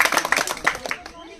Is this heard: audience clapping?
yes